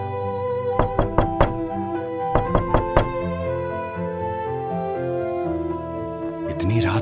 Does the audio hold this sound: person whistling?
no